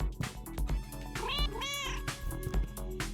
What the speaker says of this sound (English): we can meow on command